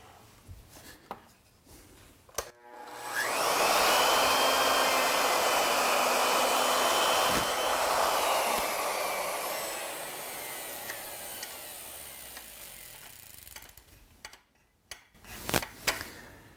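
An ornamental mill with a surface planing bit cuts a flat on a turned workpiece at a set plunge depth, giving a steady, loud whirring grind for about eleven seconds before it winds down, with faint clicks and taps around it.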